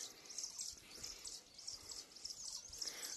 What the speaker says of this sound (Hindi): चिड़ियों की आवाज़ भी सुन सकते हैं